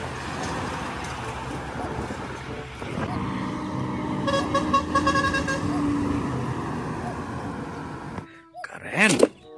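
Traffic rumbles past as a trailer-hauling container truck goes by, its engine drone building before a sharp horn honk rings out near the end, while a person talks excitedly.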